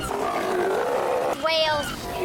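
Sea lions on rocky Tatoosh Island let out deep, grunting roars, with one louder bellow rising midway, heard close under a speaking voice.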